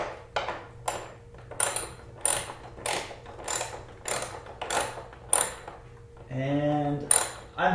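A tool turns the headlight beam adjuster on a Yamaha FZ6, making a steady rhythm of about ten sharp close ratchet clicks, with a brief whirring tone near the end.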